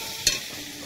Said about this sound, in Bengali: আমি আলু ভাজছি